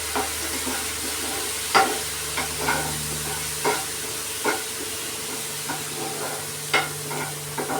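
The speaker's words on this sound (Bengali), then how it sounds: "মশলা ভাজা হয়েছে, এখন এই জল শুদ্ধ ডাস্ট মশলাটা দিয়ে দিচ্ছে।" Water-mixed turmeric and spice paste added to frying spices in a pan for a tengra fish and potato curry, giving a steady close sizzle with scattered soft stirring clicks and taps, no voices.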